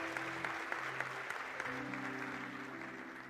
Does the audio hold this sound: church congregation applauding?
yes